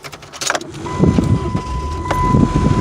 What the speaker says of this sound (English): first you want to start up your vehicle